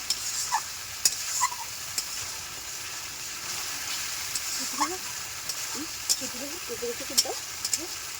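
Potatoes sautéing in a spicy red masala for aloo dum, a soft steady sizzle in a pan with occasional scrapes and clinks of a stirring spoon, and a faint voice speaking briefly in the background.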